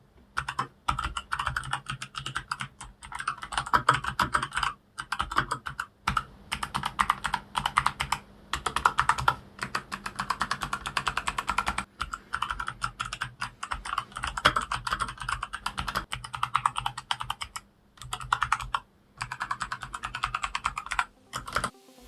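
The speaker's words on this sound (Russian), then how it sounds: "послушать, как звучит данная клавиатура на столе и на коврике" Typing on an MSI Vigor GK50 Elite full-size mechanical gaming keyboard, a dense run of crisp key clicks and clacks in quick bursts with brief pauses, close and clear with no talk.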